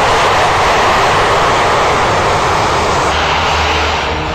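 Saab Gripen fighter jet passing overhead, a loud steady broadband engine roar with no voices, holding constant for the whole stretch and easing only slightly toward the end.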